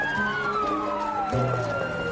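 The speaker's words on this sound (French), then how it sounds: "Combien d'ambulances arrivent là?" Ambulance and police sirens wail together at close range, several overlapping tones sliding up and down in pitch, loud and continuous throughout with no one speaking.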